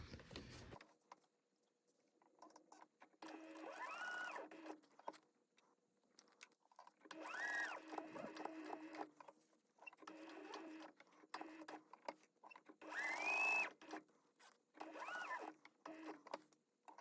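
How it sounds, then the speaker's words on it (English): A sewing machine top stitches around the outside of a raw-edge wallet box, faint bursts of stitching in short runs separated by quiet pauses, with small handling noises between. "we're just going to top stitch all the way around the outside of"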